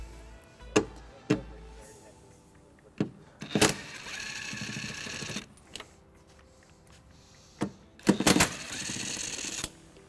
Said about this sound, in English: We're going to remove these two bolts using a 10mm socket.